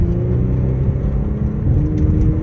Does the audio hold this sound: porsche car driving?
yes